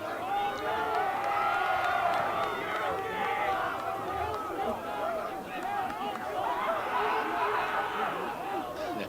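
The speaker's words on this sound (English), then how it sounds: "Crowd for Windham is going crazy right now" Windham supporters roar and cheer without letup at a boys high school soccer semi-final, a dense crowd din filling the whole stretch with excited shouting and chatter.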